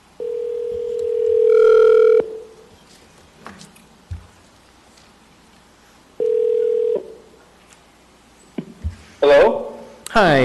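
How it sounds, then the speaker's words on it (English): A telephone dial tone and dialing tones play during a call to a job applicant at an Anchorage Assembly meeting, steady tones in a few separate stretches with brief clicks and pauses between them. "So do we want to go ahead and dial the applicant and you can ask?"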